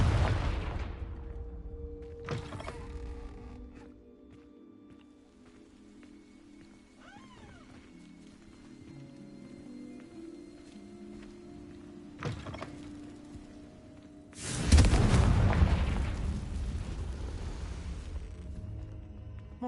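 Confringo spell explosions in Hogwarts Legacy: a sharp blast at the start, a few smaller thumps in between, and a loud, close explosion about three quarters of the way in that rumbles and fades over a quiet ambient background.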